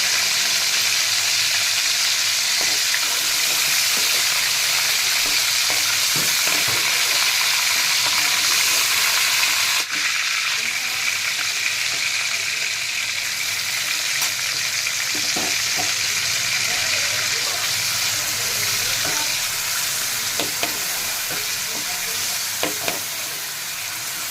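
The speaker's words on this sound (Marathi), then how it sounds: "तर तेल गरम झालं त्यामुळे कोळंबी आपली छान अशी फ्राय होते" Prawns frying in hot oil for a spicy prawn masala, a dense, steady sizzle and crackle that lasts the whole time, close and loud, with a few faint clinks and no voices.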